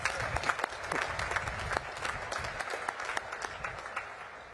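Graduating midshipmen and guests clap at a U.S. Naval Academy graduation ceremony, a moderately distant, scattered round of applause in a large space that gradually thins out.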